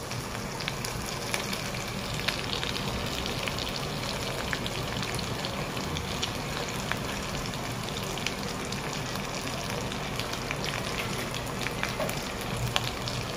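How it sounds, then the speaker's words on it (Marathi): Chicken sukha masala frying and roasting in a pan, a steady dense sizzle with crackling spatters running evenly throughout, close and continuous with no talk. "मसाला चांगला भाजला पाहिजे."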